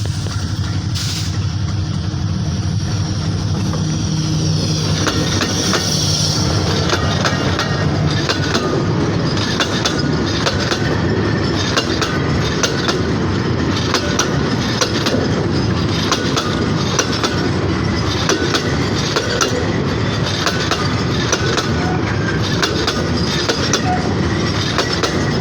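A Bangladesh Railway port freight train rolls steadily past at close range, loud and continuous, with rhythmic clickety-clack of wheels over rail joints and some metallic squeal.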